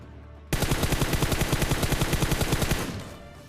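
Automatic gunfire spray in PUBG Mobile on the Erangel map: a loud, steady burst of rapid, evenly spaced shots lasting over two seconds, then tapering off, with no talking.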